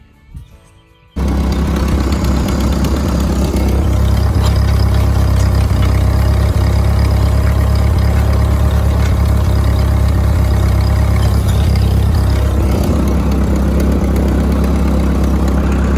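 A tractor engine starts up after a brief quiet moment and settles into a loud, steady running rumble while pulling a garden cultivator with tines on both sides, staying close and continuous throughout.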